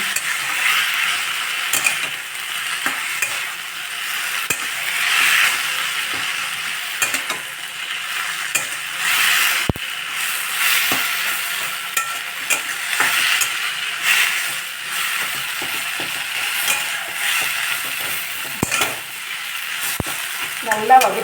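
Mudakathan leaves being sautéed in a pan for soup give a continuous sizzle with frequent scraping and stirring clicks from a spatula, close and steady throughout.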